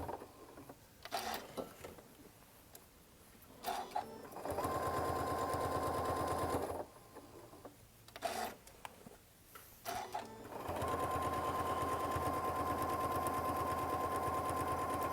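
A sewing machine stitches in three bursts of rapid, steady mechanical chatter, each lasting a couple of seconds or more, with quieter handling and rustling of fabric in the pauses between runs.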